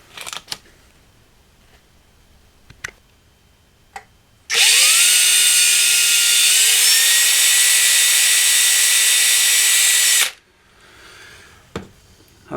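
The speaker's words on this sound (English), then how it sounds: "I can drill those holes and get that fitted." An electric drill bores a pilot hole in the chassis of an 8-channel valve mixer. The motor whines loudly and steadily for about six seconds, its pitch dipping slightly under load, between quiet handling clicks.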